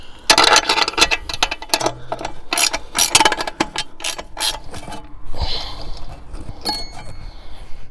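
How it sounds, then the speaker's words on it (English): Two 9/16 wrenches loosen the bolts holding the paddle inside a manual winch, giving a dense run of close metallic ratcheting clicks and clanks that thins out into scattered taps. "The next thing we do is remove the paddle that's inside here for when it's a manual winch. That's going to be a 9/16 wrench"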